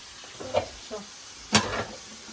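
Chopped onions are stirred with salt, black pepper and vinegar, giving a few close scraping and clinking strokes, two of them louder, against a quiet background.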